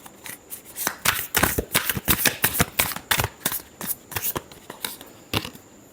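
A deck of tarot cards is shuffled by hand in a series of sharp, uneven riffling bursts, close and crisp, with short pauses between them and no speech.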